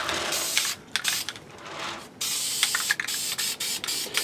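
Spray bursts hiss in short and longer blasts as a coat goes onto a 3D print, close and loud with brief pauses between sprays.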